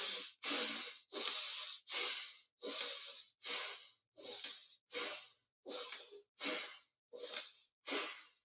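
Rapid breathing in and out through the nose at one second in and one second out, with about a dozen evenly spaced breathy airy puffs close up and fairly soft, each followed by a short silence.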